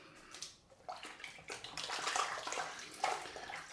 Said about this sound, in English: Just rinse off this cloth.